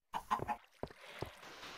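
Minecraft chicken clucking in the game, several short clucks close by followed by a few scattered single clucks over quiet ambient game sound.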